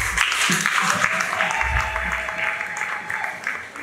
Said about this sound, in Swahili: Jamani, mpigieni makofi